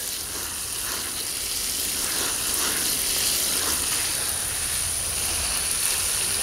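Water sprays steadily from a hose onto dry soil in raised garden beds planted with herbs such as basil, parsley and dill, a continuous close hiss with no talk.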